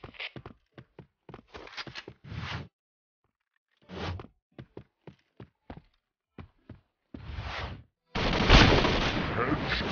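Gunfire in the first-person shooter Point Blank rings out as rapid single shots and short bursts separated by silences, ending in a sustained louder volley, with brief voice callouts mixed in.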